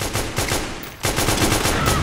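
Rapid automatic AK rifle fire in the online shooter Metal Gear Online, a loud, close stream of shots with a brief pause partway through before a second burst.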